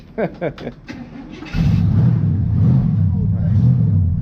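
An old-school classic car engine cranks over in a few short bursts, then catches and settles into a loud, steady idle nearby.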